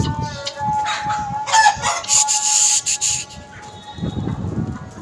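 A chicken clucks and squawks in short bursts, fairly close, with scuffling and rustling noises between the calls.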